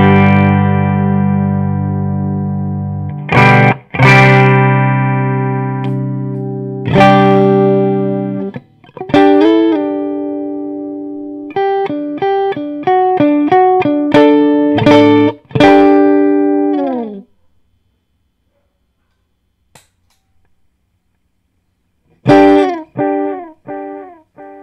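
A clean electric guitar plays separate plucked notes and chords that ring out and decay. Short phrases are split by pauses, including a long silent gap near the end.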